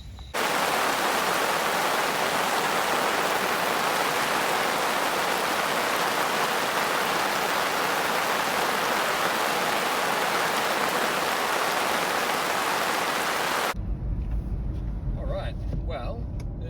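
Steady rain pours down at a campsite, a loud, dense hiss that continues unbroken before cutting abruptly to a quieter scene.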